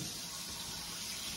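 Water running steadily from a kitchen tap while filling a pot for homemade chicken stock, a soft continuous hiss and splash heard close and alone.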